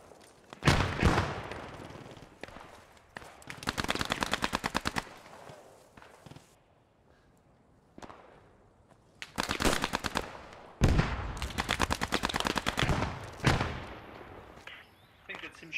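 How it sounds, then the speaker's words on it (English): Sustained machine-gun bursts from the World War II shooter Post Scriptum rattle in several long volleys separated by quieter gaps, with people talking at points between the firing. "I think that's him shooting."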